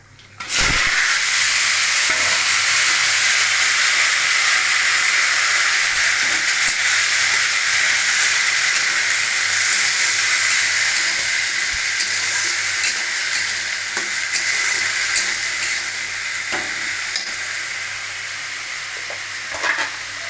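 Potatoes and jackfruit seeds dropped into hot tempering oil for a vegetarian curry, giving a loud, steady, close hiss of frying that holds for the whole stretch and tapers slightly near the end, with faint stirring clicks.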